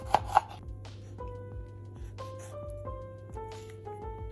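A knife chops tomatoes into wedges on a board with a steady series of crisp, fairly quiet cuts over a low background hum.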